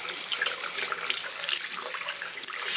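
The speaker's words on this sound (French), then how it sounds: "Donc rebelote, je rince" Running tap water pours steadily over a makeup brush being rinsed of shampoo at a sink, a dense continuous hiss and splash, close and loud throughout with no voices.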